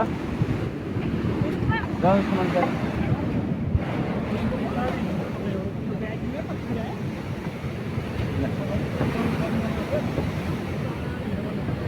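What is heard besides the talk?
strong wind blowing outdoors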